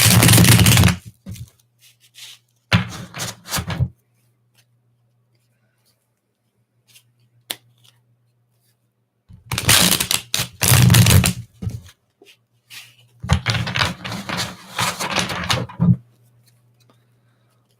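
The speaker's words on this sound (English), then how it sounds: "I know the cards are really loud on here when I shuffle them" Tarot cards being shuffled in loud, close bursts of riffling and slapping, separated by quiet gaps, with a low steady hum running underneath.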